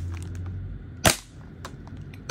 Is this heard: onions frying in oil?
no